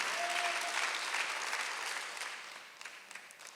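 Sunday worship congregation applauding in a church, a broad wash of clapping that starts full and gradually thins and quiets toward the end, fairly soft overall.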